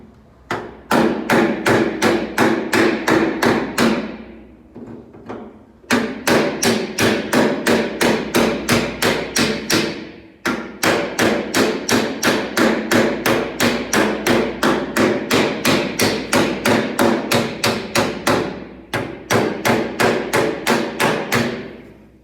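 A hammer strikes car body sheet metal in rapid, regular bursts to knock out small dents, loud close metallic blows repeated in long runs separated by brief pauses.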